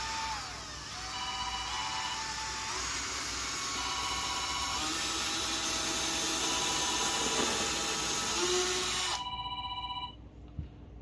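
Drilling holes into a cork for a homemade bottle hummingbird feeder: a continuous high-pitched whine runs for about nine seconds, changing pitch as the bit cuts, then stops abruptly, leaving faint ringing tones.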